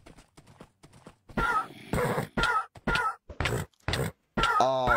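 Rapid clip-clop of horse hooves in short bursts in a video game, with grunts and a brief whinny near the end, loud and close.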